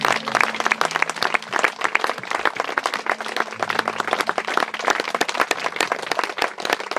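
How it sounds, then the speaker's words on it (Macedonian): A church congregation claps in praise during a worship service, with dense, continuous applause from many hands filling the space at a steady level throughout. "Одете му слава на плескање."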